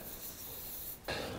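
Silicone spray hisses onto a small rubber grommet on a Honda Element hood cable, a short, close, sharp burst near the end after a quiet stretch.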